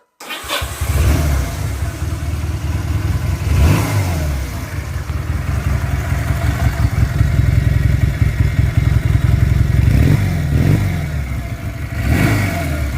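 A Honda 125 motorcycle engine cranks and catches after a clutch replacement, then idles loudly and close, revving up several times in rising surges over a steady rumble.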